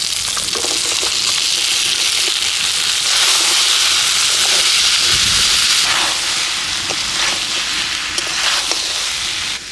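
Boiled young jackfruit dropped into hot spiced oil fries with a loud, dense, continuous sizzle, punctuated by occasional spatula scrapes and pops throughout, outdoors in village cooking.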